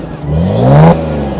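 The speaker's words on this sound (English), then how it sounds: "Give it some revs." A Nissan R34 GTR with an aftermarket exhaust gets a short rev: the engine note rises in pitch under the throttle, peaks, then drops back to idle, all in about a second and a half.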